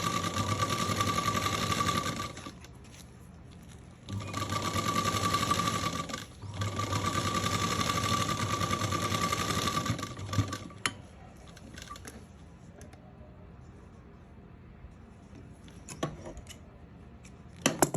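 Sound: sewing machine stitching a T-shirt seam

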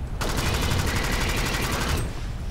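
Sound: pump shotgun firing in the video game Alien Swarm

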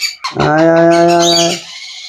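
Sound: baby birds calling

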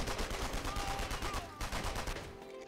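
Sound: gunshots in Mortyr 4: Operation Thunderstorm video game

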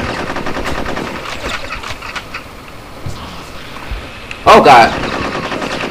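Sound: gunfire in video game Conker's Bad Fur Day

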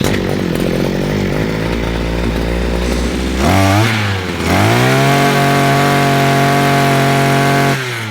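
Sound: Dnipro-M petrol grass trimmer engine starting and running

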